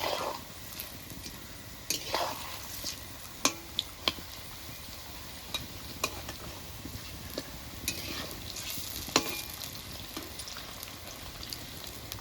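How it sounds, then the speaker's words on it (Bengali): Cauliflower pakoras fry in hot oil with a soft, continuous sizzle, punctuated by occasional sharp clinks and taps as they are flipped and stirred in the pan. "পকোড়াগুলো এক পিট ভাজা হয়ে গেছে এবার উল্টি পাল্টি ভেজে নেব"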